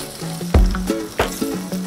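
Butter sizzles and crackles in a frying pan, a steady close frying hiss with sharper pops, while tonal background sounds run underneath.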